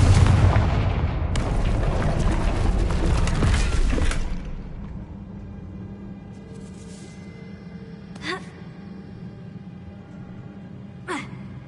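A Confringo fire spell explodes in Hogwarts Legacy with a loud booming, shattering blast for about four seconds. It then drops to a quiet hum, broken by two faint, brief knocks.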